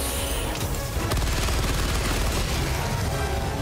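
A Stalwart machine gun in Helldivers 2 fires a continuous rapid burst, loud and close, with a dense rattle of shots throughout.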